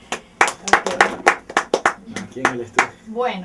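People in a studio clap in sparse, separate hand claps, near and fairly loud, mixed with someone speaking briefly over and after them.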